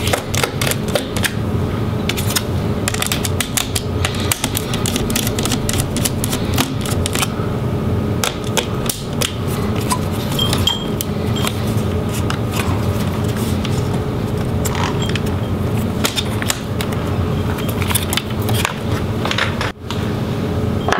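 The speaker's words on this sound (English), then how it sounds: "And then we can remove the screws holding in the battery." Screws being removed from the battery of a Dell Latitude 5580 laptop, with dense, continuous small clicks and rattles of a driver working the screws for a long stretch, close up.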